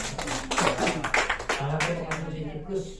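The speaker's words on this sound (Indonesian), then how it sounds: "langsung tepuk tangan buat ibunya." Audience clapping at a product testimonial event in Tangerang, brisk overlapping claps filling the room while people talk over them throughout.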